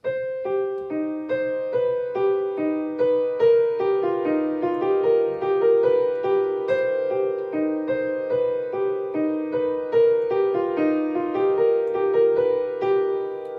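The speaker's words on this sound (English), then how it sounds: "So this is just the piano portion of the song." A solo piano plays the opening chords of a song, a steady, repeating sequence of chords and notes at moderate volume, clear and close with no other sounds.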